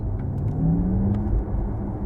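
A low, steady rumbling hum from a Porsche Taycan Turbo S electric motor nearby, with a faint whir and occasional light clicks, no talk.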